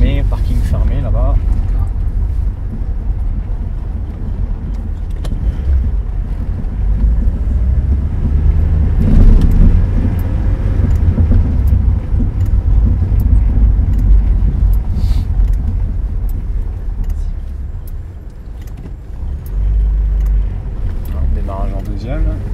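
A 1978 Renault 16 TX engine pulls away in second gear with a low, rumbling drone that rises and holds, heard from inside the car with faint wind and road noise and a voice speaking over it.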